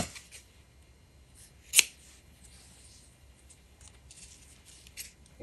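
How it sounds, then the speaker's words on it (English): Scissors cut ribbon for a Christmas photo ornament, giving one sharp, crisp snip followed by a few faint snips and soft rustles of handling in a quiet room. "I'm going to cut this to this ribbon to 8 inches each."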